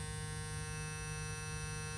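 WezTeck hair clipper, a one-blade-to-full-machine model, running steadily with a continuous motor hum and buzz, close and even throughout with no talking.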